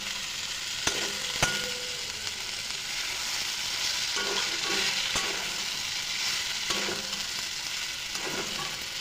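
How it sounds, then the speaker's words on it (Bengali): Taro stolons and jackfruit seeds fry in hot oil in a pan, giving a steady moderate sizzle with occasional stirring clicks and scrapes throughout. "এবার ভালোভাবে তেলের সঙ্গে মিশতে হবে, ভাজা হতে লাগবে, ভালোভাবে ভাজা হবে"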